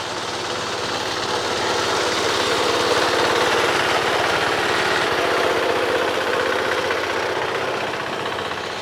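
A New Holland 4510 tractor drives a hydraulic-motor reaper at raised rpm, producing a loud, continuous engine drone with a rattling mechanical chatter that holds steady throughout.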